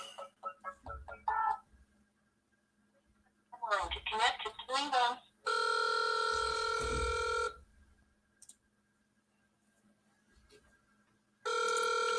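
A telephone rings during a real estate call, with a sustained electronic ring tone sounding twice between stretches of voices heard over the line.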